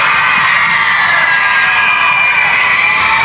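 A packed high school gym crowd at a 1999 state competitive cheer final roars and cheers for the Pewamo Westphalia squad, a loud, continuous wall of shouting and whooping with no letup.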